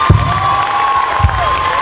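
Audience cheering and clapping greets a guitarist as he is introduced at a live concert, a steady crowd roar lasting the full moment with a few louder shouts rising out of it.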